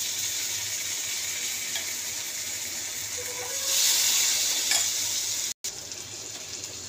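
Spiced tempering hits a pot of boiled chana dal with a steady, bright sizzle and hiss that flares louder midway, then cuts out briefly before resuming.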